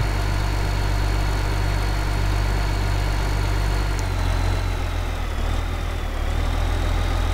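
Tractor engine in the farming game Farming Simulator 15, a steady loud idle-like drone with a low hum that shifts pitch slightly midway, continuous and close, with no talking.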